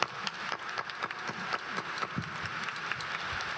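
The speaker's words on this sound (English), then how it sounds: "we can give her a round of applause" A crowd at a university spring commencement ceremony claps in a faint, steady round of applause, scattered hand claps blending into a continuous patter with no talking.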